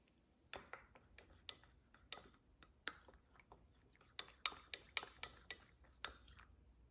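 Hexane and water are mixed in laboratory glassware, giving a quiet series of about a dozen sharp clinks and taps in an irregular rhythm against a near-silent background.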